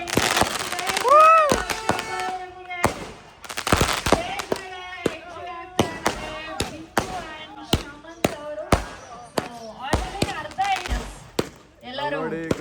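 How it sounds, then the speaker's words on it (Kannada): Firecrackers bursting at an outdoor wedding sangeet night, a long run of sharp cracks and pops in quick uneven succession, some in dense clusters, loud and close, with faint voices and music underneath. "ಅದಕ್ಕೆ ಇವಾಗ ಪಟಾಕಿ ನೋಡ್ತಿರೋ."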